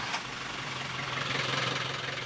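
A repaired tractor engine idles steadily at close range, a low knocking hum with broadband rattle that holds constant throughout, no voices over it.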